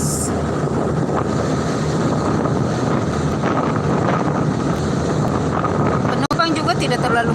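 Steady broadband rumble of a small Indonesian pioneer passenger ship's engine and rushing wind over open water, continuous throughout, with a brief knock near the end.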